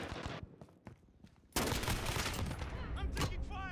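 Gunfire in Call of Duty Modern Warfare, a few scattered shots and then a sudden loud, dense burst of automatic fire with whizzing effects, while a person talks over it.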